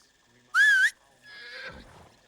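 A horse whinnies once in the Medieval Dynasty video game, a loud, short neigh that rises and falls, followed by softer rustling of footsteps through leaves.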